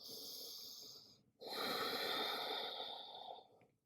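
Two slow, deep breaths close to the microphone, a long airy inhale followed by a longer exhale, quiet and alone, taken while resting in yoga child's pose.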